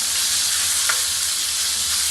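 Seasoned meat for lomo saltado sears in a smoking hot pan, giving a loud, steady, close sizzle that continues throughout with a brief crackle partway.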